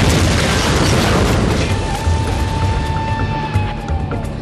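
A 200-pound bomb dropped by an F-18 during military pilot training in Canada explodes in a heavy, rumbling boom that starts loud and slowly rolls away over several seconds.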